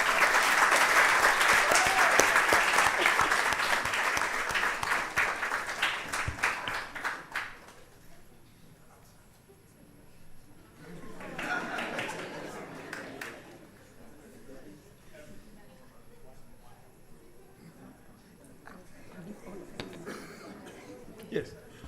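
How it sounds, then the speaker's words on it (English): At a research institution's 45-year anniversary event, an audience applauds the director with loud, dense clapping that fades after several seconds into a quieter room with scattered chuckles, coughs and murmurs. "Let's give her a round of applause."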